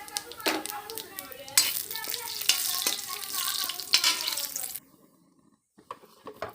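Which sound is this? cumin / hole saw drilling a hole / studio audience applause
cumin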